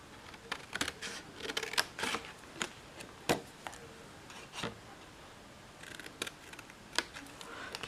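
Scissors snip paper squares and small tabs from a template for a Halloween pop-up candy box, giving a series of quiet, crisp cuts at an uneven pace with short pauses between them.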